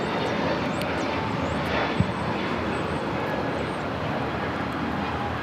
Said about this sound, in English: This is JetBlue Flight 100 taking off to Fort Lauderdale on the A321neo.